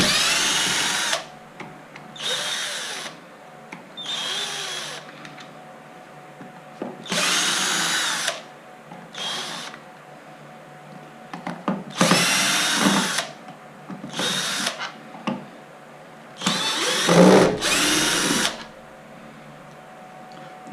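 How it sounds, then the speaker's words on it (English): A power drill backing screws out of a gearbox case for an MGI Zip Navigator, in a series of about ten short whirring bursts separated by pauses, close and fairly loud. "we'll begin by removing the screws from the case"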